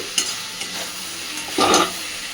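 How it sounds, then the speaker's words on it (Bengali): Soybean curry is stirred and mixed in a pan, with a loud, continuous frying sizzle broken by scraping utensil strokes, the heaviest scrape coming near the end, and no voices. "জাস্ট মিনিট 2 সময় ধরে নাড়াচাড়া করে সব কিছু ভালোভাবে মিশিয়ে নেব।"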